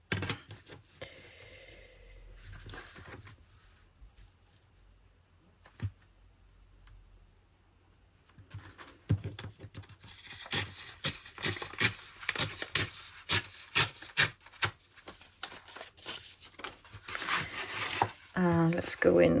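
Scissors cutting through a folded sketchbook page: soft, rapid snipping and paper rasping that builds into a dense, close run of crisp cuts after a quiet stretch of faint rustling, with a voice speaking at the end.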